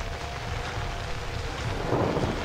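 A thunderstorm rumbles in Outlast, rain hissing steadily with low thunder rolling and swelling toward the end, no voices over it.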